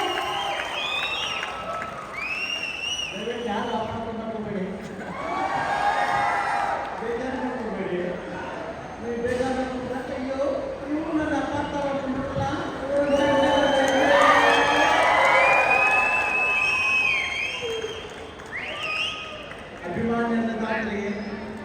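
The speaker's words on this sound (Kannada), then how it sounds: "ದಯವಿಟ್ಟು ಮತ್ತೊಮ್ಮೆ ಜೋರಾದ ಚಪ್ಪಾಳೆ ಉಮೇಶ್ ಸರ್ಗೆ" An audience at a felicitation event claps and cheers loudly, the crowd noise swelling and rolling continuously with shouting voices layered over the applause throughout.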